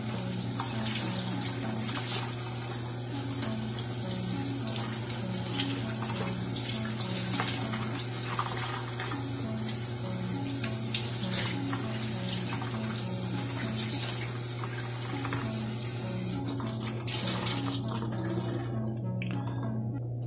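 Warm water runs steadily from a kitchen tap onto Swedish dish cloths, a constant close hiss and splash with no talking.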